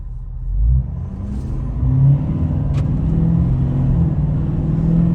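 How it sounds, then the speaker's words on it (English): A 2020 Ford Powerstroke diesel pickup with its emissions equipment deleted accelerates hard under heavy throttle, a loud, steady engine rumble and drone rising as the truck builds speed, with a brief surge near the start. "We're going to accelerate in number 1 and just kind of see how it goes."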